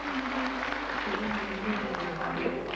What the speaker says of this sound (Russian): Аплодисменты нашей юной участницы, и мы продолжаем.